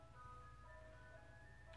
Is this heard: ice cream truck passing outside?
yes